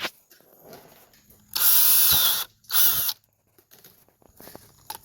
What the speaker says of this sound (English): But drill your hole in something.